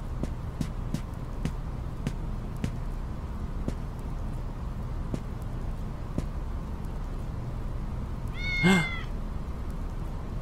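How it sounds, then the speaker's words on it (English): A cat in the video game Digital Devil Saga gives a single short, clear meow near the end, over a steady game background with faint ticking. "It's that cat."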